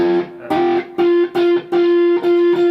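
Distorted electric guitar repeats one note in short chopped bursts, each cut off abruptly with no ringing sustain between them.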